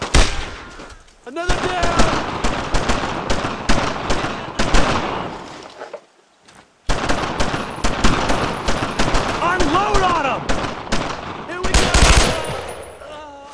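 Soldiers' rifle and machine-gun fire in the World War II video game Brothers in Arms: Road to Hill 30, loud sustained bursts of rapid shots with a brief lull midway, while voices shout over the battle.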